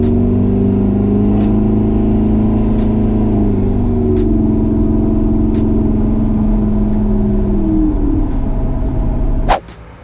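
A 2017 Ram 1500 pickup runs steadily in a low, even drone, then the sound drops away sharply near the end with a brief click as it pulls off.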